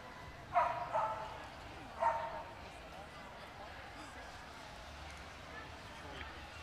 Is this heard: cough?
no